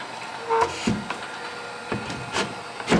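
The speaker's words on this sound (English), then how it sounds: "I got to bring the bridge back up and back down before the train comes" Creaking wooden rubs and scraping knocks come at irregular intervals, with brief squeaks as a model railroad bridge is slowly lowered, close and fairly quiet.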